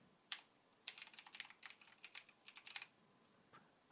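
Typing on a computer keyboard to enter a VPN client profile name, with bursts of quick close keystrokes, a single tap before and after, quiet and alone.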